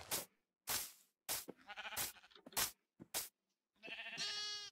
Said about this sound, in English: The baby sheep sounded so cute.